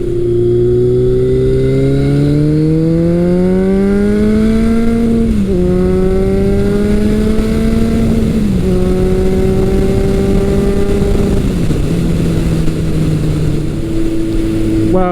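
Motorcycle on its first test ride of spring after winter storage, the engine droning steadily and loud, with rising pitch through gear changes and brief dips between shifts.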